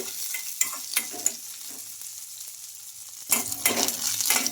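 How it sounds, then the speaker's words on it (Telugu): Green chillies frying with garlic and ginger, a steady close sizzle with a few sharp crackles early, quieter in the middle, then louder bursts of spitting and stirring toward the end. "ఈ మిర్చి మనకు బాగా ఫ్రై అవ్వాలి"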